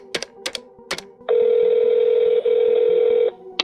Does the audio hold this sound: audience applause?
no